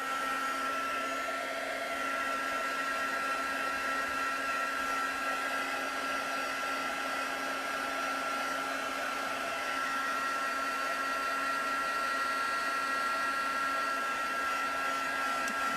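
A heat tool blows steadily to dry and set watercolour ink on a card, a continuous whirring hiss with a tonal whine that holds unchanged throughout, close and alone with no talking.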